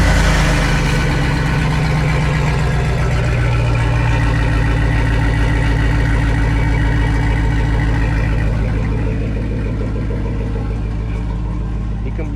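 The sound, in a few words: GMC truck engine starting and idling with Scat Pack mufflers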